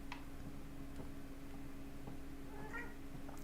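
Pet cats meow several times at low volume in a quiet indoor room, with short separate calls over a faint steady hum.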